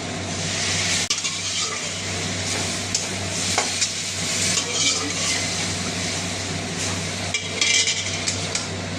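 Boiled chickpeas go into a sizzling pan for chana masala and are stirred, with scraping and clinking of a utensil against the pan over a steady frying hiss.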